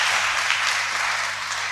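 Applause from a church congregation acclaiming Jesus, a dense, steady wash of many hands clapping at once, loud and sustained with no break.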